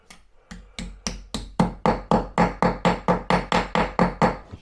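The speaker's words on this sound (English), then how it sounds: "let's get our hammer and let's see if we can get these in" A hammer drives wall plugs into drilled holes while a kitchen wall cabinet is being hung, giving a steady run of about fourteen sharp, evenly spaced knocks that grow louder after a few lighter taps.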